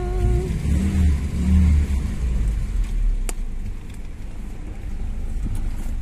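A car engine revs up close, giving a steady, loud low rumble that rises and settles, with no talking over it.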